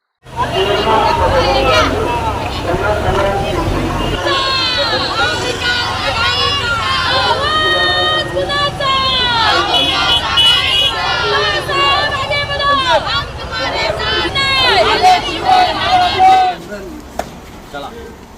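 Supporters celebrate an election victory outdoors outside a vote-counting centre in Vikhroli, a dense crowd hubbub with loud overlapping cheering and chanting voices that continues throughout, close and busy.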